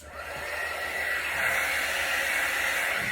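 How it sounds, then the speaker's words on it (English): A heat embossing tool blows steadily over freshly poured fluid acrylic paint cells, giving a close, constant hissing whoosh of hot air that holds without a break. "actually going to blow them out with my heat embossing tool"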